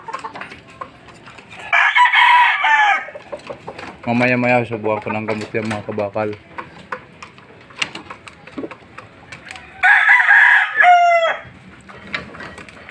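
Fighting roosters kept in a cage at home in the Philippines crow loudly twice, with a run of clucking between, while someone talks nearby throughout.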